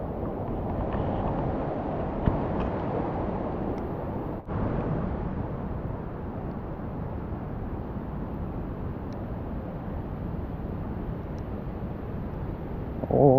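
Tad Yeuang waterfall near Paksong in Champasak, Laos, running low in a dry spell, gives a steady, unbroken rushing roar of falling water with no voices over it.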